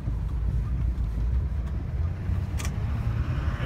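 A 2005 Chevrolet Silverado 2500HD crew cab 4x4 with a 6.6 Duramax diesel drives along with a steady low rumble and droning road and wind noise. The sound holds a constant level with no voices.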